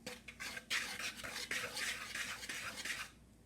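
Flour, salt and baking powder for dhal puri are mixed in a bowl, a close scraping and rustling with light clinks of a utensil against the bowl, in quick irregular strokes that stop near the end.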